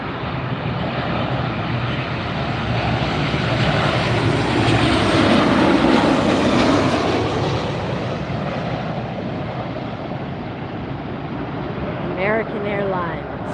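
American Airlines airliner arriving at LAX, a broad roar of jet engines swelling loudly as it passes close overhead and then fading slowly, with a brief voice near the end.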